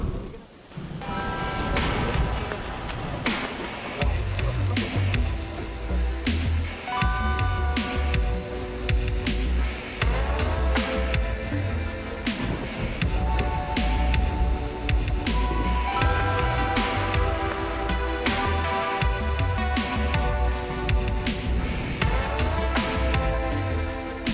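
Steady rain falls on the outskirts of Kyoto at dusk, a continuous wash of noise layered under loud, sustained tonal music-like sounds throughout.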